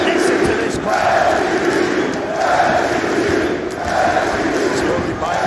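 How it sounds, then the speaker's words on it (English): Arena crowd at a Bellator welterweight title MMA fight, a loud continuous roar with swelling waves of cheering and shouting, fans' voices layered throughout. "Listen to this crowd"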